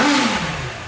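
A Honda CB1000 motorcycle engine revs loudly and close up, a single rising roar that falls off and settles into a throaty idle within a second.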